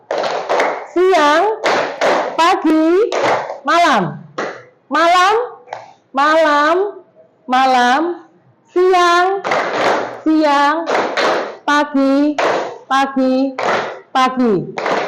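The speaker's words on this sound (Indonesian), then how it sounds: "Kita tepuk dulu." Children in a classroom chant a rhythmic call-and-response routine, voices and claps alternating in short bursts with brief pauses between phrases, the clapping tightly locked to the chanting.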